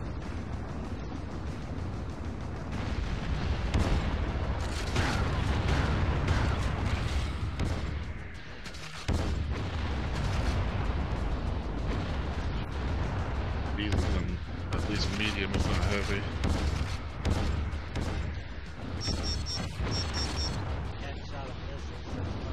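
Missile launcher fire in the Tribes Aerial Assault video game, repeated heavy booming blasts and explosions with gunfire crackle in a dense, chaotic battle mix, while a voice talks over it.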